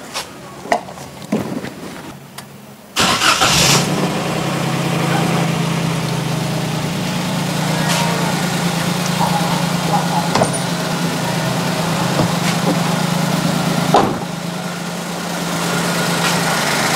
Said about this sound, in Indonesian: lalu kita coba hidupkan mesin